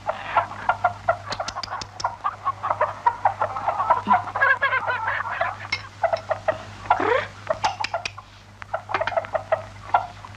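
Village chickens cluck and peck busily during feeding, with scattered sharp clucks and rustling taps close by, forming an irregular, lively patter over a low steady hum.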